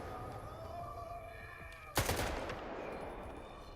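Enemy gunfire in the S.T.A.L.K.E.R. 2 game, on PS5, sounds as one sharp loud shot about halfway through, followed by a short decaying echo over a low steady ambient hum.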